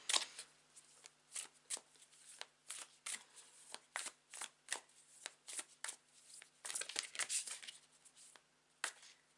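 Tarot cards being shuffled by hand, a steady run of crisp riffling bursts and soft slaps, close and fairly quiet with a low background hum and no talking.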